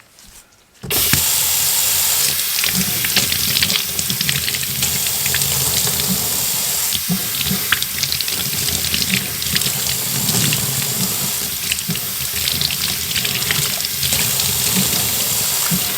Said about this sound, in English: I'm going to rinse this off and just wring it out just so you can see how filthy this actually is